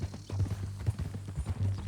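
Horse hooves clip-clopping at a steady walking gait in the game Red Dead Redemption 2, close and fairly loud, a regular rhythm of several soft thuds with no talk over them.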